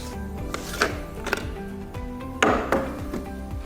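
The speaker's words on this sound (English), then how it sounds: "we can lift the tab on the side here and unscrew the lid" A pool cartridge filter lid being unscrewed, with a series of plastic clicks and knocks, a few sharper taps, and ratcheting scrapes close by.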